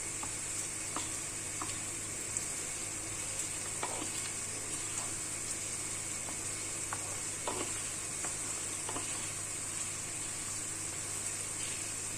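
Onions sauté in a pan for a kısır salad, giving a steady, quiet sizzle with scattered faint crackles and pops. The sound runs unbroken throughout, with no voices.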